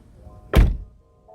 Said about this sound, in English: it sounds solid when you close the door